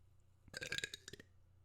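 A loud, drawn-out burp of about a second, rumbling and gurgling, with a couple of short belch bursts at the end and no talking.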